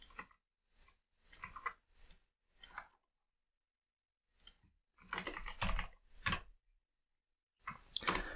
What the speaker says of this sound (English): And here I'm going to simply type the column name individually.